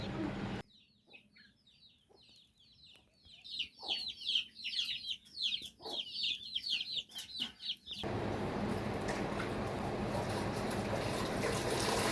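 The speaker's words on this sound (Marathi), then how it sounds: "सावलीमध्ये कोंबड्या पहा कशा आळवतात" Chickens resting in morning shade under a tree cluck and murmur in a busy, overlapping chorus for several seconds, moderately close, before the sound cuts to a steady broadband hiss.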